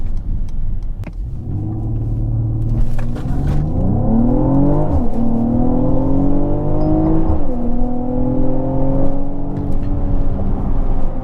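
Mercedes-AMG car with a 9-speed torque converter gearbox accelerating hard, engine tone climbing in rising sweeps broken by quick upshifts, loud and close from inside the cabin with no speech.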